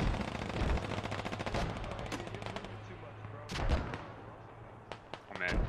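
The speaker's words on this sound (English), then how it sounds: "I can feel my game hurting from those mortars right now" Mortar and gunfire boom across a war video game battlefield, with repeated heavy thumps and rattling bursts layered over continuous combat noise and occasional louder impacts.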